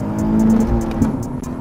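A Nissan 370Z Nismo engine drones steadily from inside the car as it accelerates, a near, loud, continuous rumble with a brief dip near the end, no voices over it.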